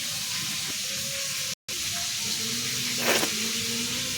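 Pumpkin pieces fry in a pan for a Bihu lunch, giving a steady, even sizzle throughout with one brief cut-out partway through and a short brighter burst near the end.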